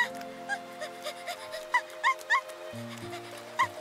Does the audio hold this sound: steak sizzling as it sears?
no